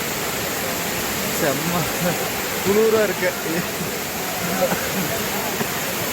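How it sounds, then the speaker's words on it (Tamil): Courtallam waterfall pours in a steady, dense roar of falling water that fills the whole scene, with people talking over it. "குற்றாலம் அருவி பாருங்கள், தண்ணி எப்படி ஊற்றுருங்க"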